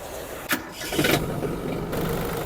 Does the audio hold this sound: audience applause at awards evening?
no